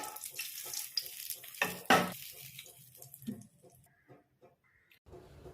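Tempering of chana dal, dried red chillies and curry leaves sizzles sharply in hot oil, with stirring and clinking pan sounds in short bursts, then a brief quieter hiss near the end.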